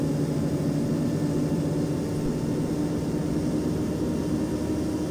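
An airliner taxis and turns at an airport in the Airport Simulator video game, its engines producing a steady, continuous low drone throughout with no talk.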